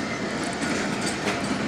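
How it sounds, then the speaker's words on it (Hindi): The Mehr Express passenger train rolls past close by, a loud continuous rumble of wagons and wheels on the track. "ट्रेन ट्रेन देख रहा"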